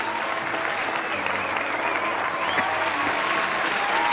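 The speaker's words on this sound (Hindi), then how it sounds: "जोरदार तालियां एक बार।" Enthusiastic audience applause at a rap audition on a talent reality show stage, a dense, loud, sustained wash of crowd clapping that fills the whole stretch.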